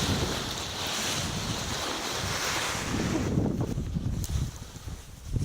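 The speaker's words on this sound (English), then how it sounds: "it's a little bit high wind for me to be kiting" Strong wind buffets the microphone on a beach used for kiting, with surf washing steadily underneath; a continuous, loud roar runs throughout with no talking.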